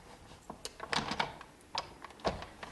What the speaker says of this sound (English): I go ahead and crank it through one time.